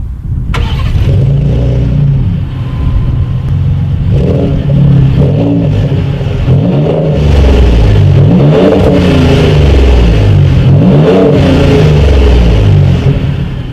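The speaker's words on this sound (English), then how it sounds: "There are dual exhaust outlets, so as always, you guys, here is that exhaust clip." A 2018 Ford F-150 Raptor pickup's V6 engine revs repeatedly through dual exhaust, deep rumbling swells rising and falling in several bursts, loud and close with no talking.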